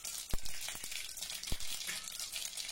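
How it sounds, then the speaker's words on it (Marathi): Fenugreek, mustard and cumin seeds sizzle and crackle in hot oil in a pan, a soft frying hiss broken by a few sharp pops, fairly quiet and with no speech. "तेल गरम झालं की त्यामध्ये चिमूटभर मेथी दाणे घालूया, थोडी मोहरी,"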